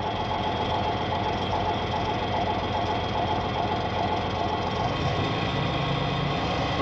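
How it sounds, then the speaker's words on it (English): A pump in a nanofiltration rig runs steadily at 20 Hz, a constant dense mechanical hum and rattle with no breaks, close and fairly loud. "I'm going to increase the frequency of the pump speed to 20 Hertz"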